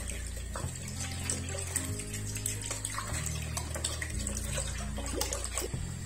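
One liter of milk poured into a pot while cooking, a continuous gurgling liquid stream with stepped shifts in pitch as the level rises, close and steady.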